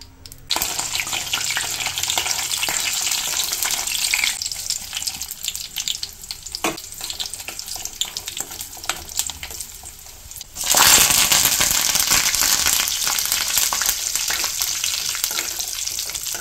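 A raw tamarind chutney tempering sizzles and crackles steadily in a hot pan, then swells into a louder burst of hissing partway through.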